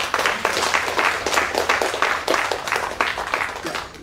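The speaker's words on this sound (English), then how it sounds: "So maybe just have one more round of applause for our dear author." Audience applause at a book launch: a steady, fairly close wash of many hands clapping, holding an even level for about four seconds with no voices on top.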